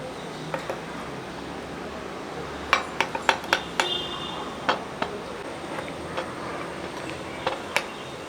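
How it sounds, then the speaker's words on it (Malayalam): A spoon stirs cake batter in a bowl, giving a scattered series of light clinks and taps against the bowl over steady background noise. "സ്പൂൺ കൊണ്ട് തന്നെ ഒന്ന് ഇളക്കിയിട്ട് നമുക്ക് ഇതുകൊണ്ട് തന്നെ ഒന്ന് ഇളക്കി കൊടുക്കാം"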